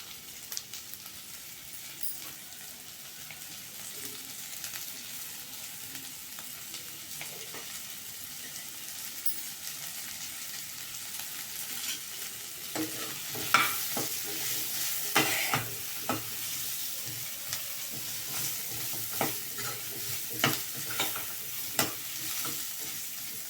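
Small onions sizzle and fry steadily in a pan for chutney, with intermittent scraping stirs growing louder and more frequent in the second half; no talking.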